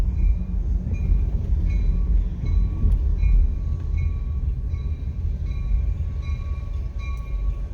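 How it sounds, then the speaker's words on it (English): A Metra commuter train rumbles steadily past at Rush Creek Conservation Area, Harvard, with a low roar and faint high squeals from the wheels, continuous and fairly close, no voices. "Checking out some Metra trains."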